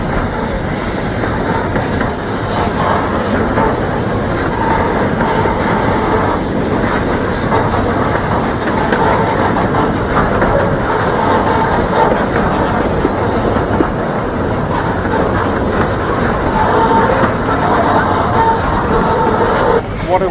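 Puffing Billy, a heritage steam train on an Australian railway, rumbles continuously with rolling wheel noise and clatter heard from on board, loud and steady throughout, with faint voices in the background.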